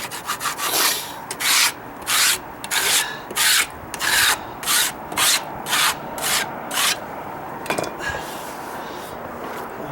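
A scraper drags old coating off wooden deck stairs in about a dozen rhythmic, rasping strokes, each a close, gritty burst separated by short pauses.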